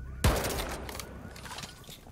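Gunfire in the video game Rainbow Six Siege: one sharp, loud blast opens the clip, followed by a rumbling, crackling tail and scattered fainter shots, with no talk.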